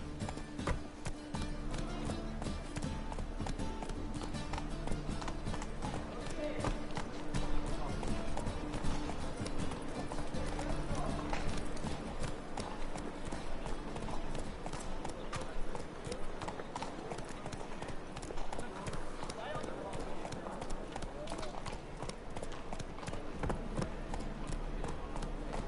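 The video game horse Roach gallops in a steady, rapid clip-clop of hooves, continuous and close, with game ambience underneath and a player speaking.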